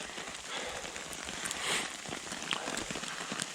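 Hail pelting the fabric of a BCB Crusader MK2 shelter in a hail storm, a dense, steady patter of many small impacts, loud and continuous with no talking.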